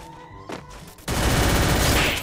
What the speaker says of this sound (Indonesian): Kedengeran kan suara tembakan Red of Fire 2 tuh?